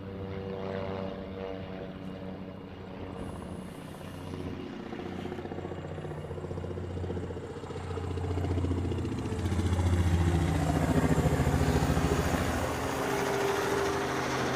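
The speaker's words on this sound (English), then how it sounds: "This is another Max 9 from Alaska. It's heading off to LAX." An Alaska Airlines Boeing 737 Max 9 leaves Hawaii for LAX, its engine roar heard from a distance at first, then swelling into a louder, broad rumble that holds steady for the last several seconds.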